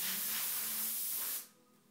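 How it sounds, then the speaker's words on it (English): A short, steady hiss of an airbrush spraying, lasting just over a second before cutting off abruptly. "And just a light spray. I'm not putting it on real heavy."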